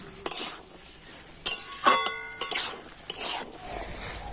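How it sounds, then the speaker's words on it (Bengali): Boiled potatoes and peas are stir-fried with spices in a pan for ghugni. A spatula clinks and scrapes against the metal several times in bursts over a soft sizzle, close and moderately loud. "আলু আর মটরটা মশলাগুলোর সাথে আবার আমি ভালো করে কষে নেব"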